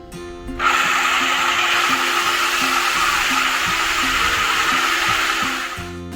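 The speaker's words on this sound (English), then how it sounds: "We're going to grind the concrete. You have to grind the concrete before you coat it." Concrete grinder working a garage floor slab ahead of a polyaspartic chip coating, a loud steady machine whine and hiss that starts abruptly, runs continuously and eases off near the end, with no talking.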